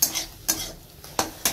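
Malabar spinach fries with garlic in a pan under a soft sizzle, with four quick, distinct scrapes and clinks of a utensil stirring against the pan.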